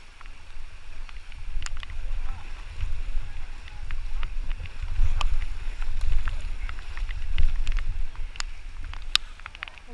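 Rafting boat being paddled through wild river water in Coorg, with steady low water rush and wind buffeting the microphone, sharp splashy paddle strokes scattered throughout, fairly close.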